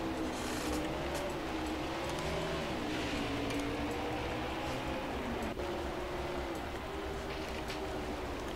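Race car engines roar continuously in the NASCAR Heat 5 racing game, a Can-Am Mustang among the field, the droning engine tone shifting in pitch as the car accelerates, steady and moderately loud.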